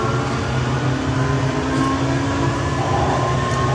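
A driverless automated metro train at Szent Gellért tér station in Budapest makes a steady, close rumble with a low droning hum and a thin tonal whine, continuous throughout with no voices.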